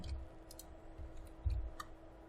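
A computer mouse clicks a few times during 3D character modeling work at a desk, small sharp ticks scattered over a low steady hum, quiet and close.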